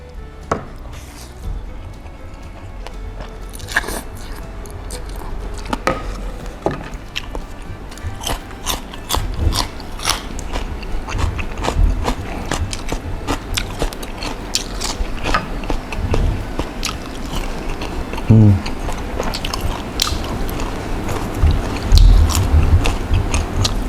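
Close, steady chewing of spicy vegan glass noodle laab eaten with fried mushrooms, with soft repeated bites and mouth sounds continuing throughout and no talking.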